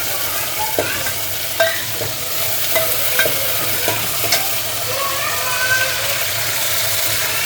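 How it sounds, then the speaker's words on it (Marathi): Loud, steady sizzling of spices hitting very hot oil for a tempering, with repeated scraping and stirring clicks throughout, close up and without talk. "तेल जास्त तापून गेलं होतं ना म्हणून मस्त कडक फोडणी बसली."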